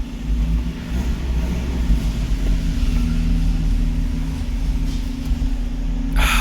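A topless Geo Tracker cruises along an open road on a warm day, its engine giving a steady low rumble with wind and road noise throughout, loud and close, with no talking.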